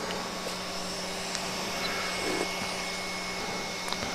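Creality Ender 3 V3 SE 3D printer running its auto-calibration, a steady fan whir and motor hum at moderate level, with faint ticks and clicks scattered throughout.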